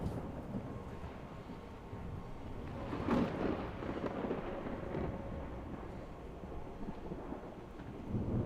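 Deep thunder rumbles on through a steady stormy wash, swelling into a louder roll near the middle and fading back to a low, continuous background growl with no voices.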